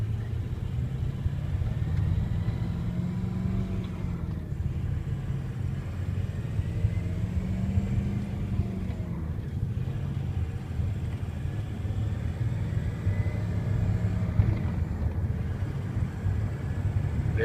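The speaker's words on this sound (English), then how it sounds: "It's nice and quiet so you can hear it." A 2003 Ford F250 diesel 4x4 with a manual transmission rumbles steadily from inside the cab while driving, a low continuous drone with gentle swells and no talk.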